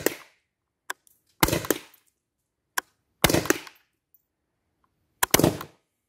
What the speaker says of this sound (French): Donc il faut tirer plusieurs coups pour être sûr que ça tire au même endroit.